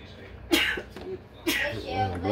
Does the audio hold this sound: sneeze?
yes